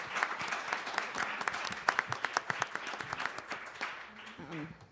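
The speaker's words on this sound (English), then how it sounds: "I think we can give them a nice round of applause for that." An audience at a law symposium claps for a few seconds, with scattered individual claps that thin out, and a voice starts speaking near the end.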